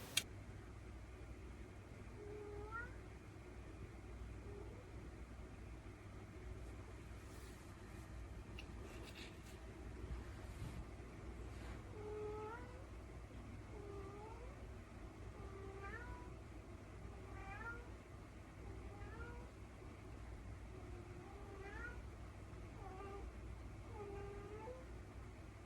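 A pet cat indoors meows repeatedly while playing in a living room, a series of short, faint, rising-and-falling calls spaced every second or two against a quiet background hum.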